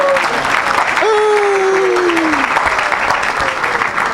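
A church congregation applauds steadily at close range, a dense wash of clapping lasting throughout, with a sustained voice or tone rising briefly above it in the middle.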